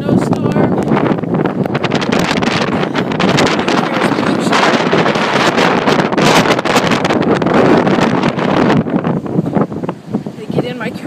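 Strong, gusting wind roars into the microphone during a March snowstorm in Cape Breton, Canada, buffeting loudly and continuously for about eleven seconds, with a plow and cars on the street nearby.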